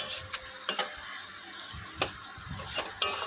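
Spice paste sautés in oil in a pan with a soft, steady sizzle, broken by several sharp clinks and scrapes from stirring, close and fairly quiet.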